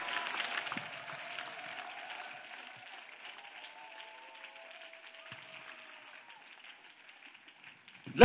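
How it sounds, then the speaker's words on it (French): Congregation applause at a church gathering of the ministry of the word, a steady broadband wash of many hands clapping with a sustained sung or cheering tone running beneath, fairly even throughout and ending with a sharp loud burst. "You are trying to applaud."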